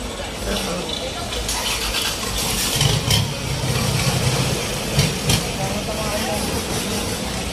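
Boat engines drone steadily through the congested canals of Damnoen Saduak floating market in Thailand, a continuous close motor rumble with clattering bumps and voices chattering over it.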